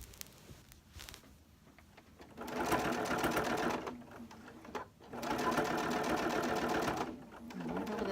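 Sewing machine stitching appliqué onto a dog blanket, running in two long steady bursts with short pauses between, close and fairly loud.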